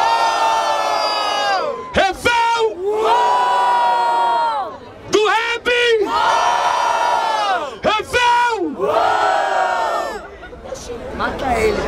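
A crowd at a rap battle semifinal in Barueri, São Paulo, loud sustained cheering and whooping in repeated surging waves, with shouted chanting voices rising and falling between short dips.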